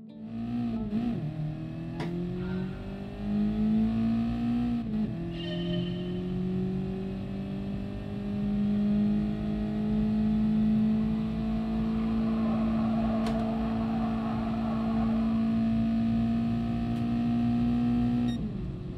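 Engine of a car in the Gran Turismo Sport driving school on PS5 holds a steady, loud drone through a corner, the pitch dipping and then climbing as it revs, with a brief shift near the start.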